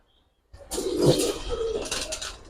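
Old-breed silver-pattern pigeons at a pigeon market, a soft close cooing call after a brief silence, low and throaty with a faint second coo.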